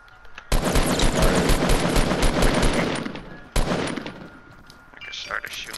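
Gunfire in Fortnite: a loud sustained automatic burst lasting nearly three seconds, followed after a short gap by a second sharp burst that tapers off into quieter shots.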